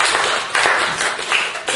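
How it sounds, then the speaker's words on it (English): A group of people clapping their hands together during a guest speaker's session, loud, close bursts of clapping that rise and fall in a few uneven swells. "Let's clap."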